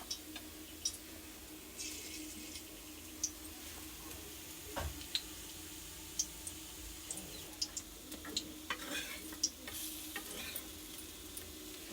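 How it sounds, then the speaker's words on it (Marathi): Mustard seeds splutter in hot oil, a quiet steady sizzle broken by scattered sharp pops and crackles at irregular intervals. "तेल गरम झालं का आपण त्यात मोहरी घालून घेऊ."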